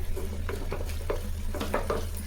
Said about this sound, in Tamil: இதை கொஞ்சம் வதக்குங்க